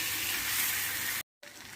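Cleaned prawns hit hot ghee in a pan for a prawn ghee roast, giving a loud, steady sizzle that cuts off briefly and then resumes, with no talking.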